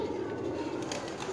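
Pigeons in a loft coo in low, soft, continuous murmurs, with a voice faintly present alongside.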